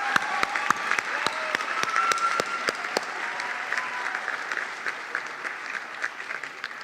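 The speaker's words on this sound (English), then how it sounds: "Round of applause for our educators." Audience applauding educators at a high school academies graduation ceremony, a sustained, even wash of clapping from a large crowd with a few sharp individual claps standing out near the start.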